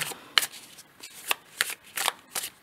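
Tarot cards are shuffled and drawn, about six crisp papery bursts of riffling and snapping at close range, with quiet gaps between them.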